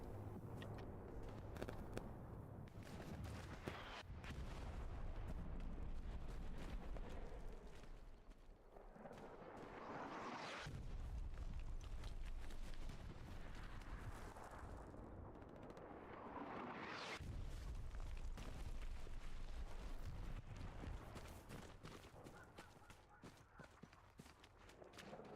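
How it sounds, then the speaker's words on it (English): Artillery fire in the online shooter Hell Let Loose: heavy, continuous rumbling barrage with swelling low booms, loud and sustained, pulsing in waves over the whole stretch. "Artillery come in nice and hard."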